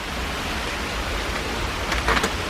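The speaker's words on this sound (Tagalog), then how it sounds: "And it's just rain." Heavy May rain pours steadily as a dense, even hiss outdoors, with a few brief louder spatters near the end and no voices.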